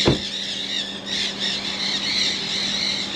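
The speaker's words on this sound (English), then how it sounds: "The birds are making noise," Birds squawk and squeal nearby in harsh, scratchy bursts, one sharp call at the start followed by a continuing raucous chatter.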